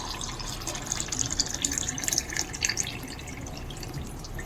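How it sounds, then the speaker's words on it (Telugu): A glass of water is poured into a pot for making boondi laddu syrup, a steady close splashing and trickling stream with bright dripping, constant and moderately loud, with no talking. "ఇదే గ్లాస్ కొలతతోని వాటర్ వేసుకుందాం మనం."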